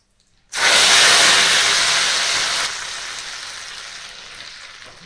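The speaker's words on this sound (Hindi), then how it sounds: "तो अब मैं डाल रही हूँ तड़का।" Hot oil tempering poured onto a gram flour yogurt curry (kadhi pakora) bursts into a loud, close sizzle, then settles into a steady hiss that slowly fades, with no talking.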